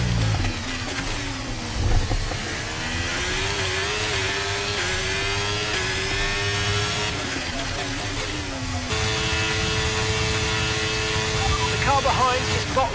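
An F1 race car engine in the F1 23 video game drones steadily throughout, its pitch rising and falling with gear changes and shifting to a higher, smoother tone in the last few seconds.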